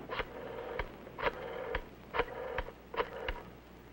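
A 1962 push-button telephone dialing a code and number, a series of short regular tone pulses about twice a second, faint and slightly muffled with light background noise.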